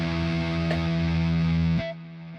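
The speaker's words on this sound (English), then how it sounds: "That's the reverb." An electric guitar played through a reverb effect pedal, giving a sustained, loud, effected chord with a shimmering tail before it cuts down near the end.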